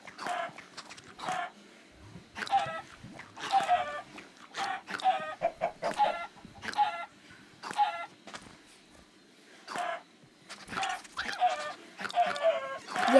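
Video game chickens clucking in a survival world, a steady run of short clucks and squawks repeating every second or so, moderately close, with only occasional faint speech.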